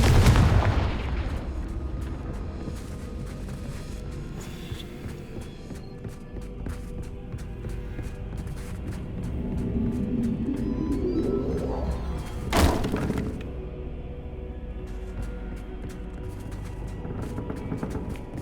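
In Hogwarts Legacy, a Confringo blasting curse erupts with a heavy booming explosion at the very start, followed by rumbling debris and scattered crashes, with another sharp blast near the two-thirds mark amid ongoing game ambience.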